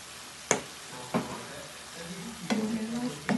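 Vegetables with coriander stirred in a frying pan: sharp spoon scrapes at intervals over a low sizzle, the frying noise swelling steadily toward the end, close and moderately loud.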